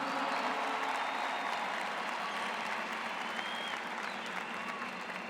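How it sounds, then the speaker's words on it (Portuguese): Sustained applause from a large church audience, dense steady clapping filling the room at an even level throughout. "Vamos aplaudir os que foram chamados."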